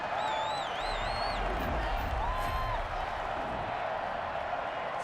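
A stadium crowd in the Madden 21 football video game roars in a steady, loud wash of cheering with a few whistles rising over it, sustained throughout without a break.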